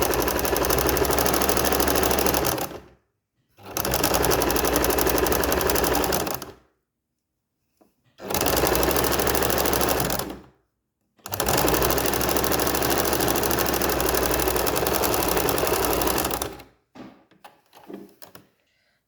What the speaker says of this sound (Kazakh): Міне, екеуінде осылай үш бұрышты қылып, түзу тігіспен тігіп шығамын.